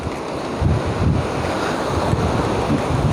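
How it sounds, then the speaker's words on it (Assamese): River water rushes past in Roing, Arunachal Pradesh during the rainy season, a loud, constant broadband roar mixed with gusty wind buffeting the microphone. "ৰয়িঙৰ নদী"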